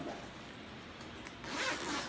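A zipper runs along a padded tote bag made for a QSC CP8 speaker, a short, faint, close-up rasping pull lasting about two seconds.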